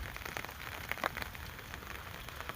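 Steady rain pattering on a surface, a dense, continuous hiss of drops with a few louder splashes, no voices.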